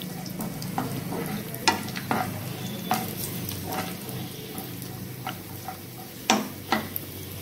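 Raisins and cashews roast in a pan over a low flame for semiya payasam, stirred with a spoon that taps and scrapes in irregular clicks above a soft, steady sizzle, heard close with no voices.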